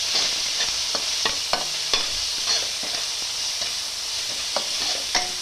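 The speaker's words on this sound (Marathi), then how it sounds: "मस्त परतून घेणार आपण हा ठेचा" Thecha, a crushed chili paste, is sautéed in a pan: a steady hiss of frying runs throughout while a spatula clicks and scrapes against the metal at an irregular rhythm, with no voices.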